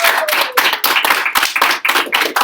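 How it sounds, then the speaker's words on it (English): A small group of students clapping together after an interview, quick uneven hand claps close by, lasting a couple of seconds without voices. "please, round of applause."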